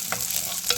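A spoon stirs mustard seeds, cumin, chopped shallots and curry leaves frying in a hot pan, making two quick scraping strokes over a continuous soft sizzle.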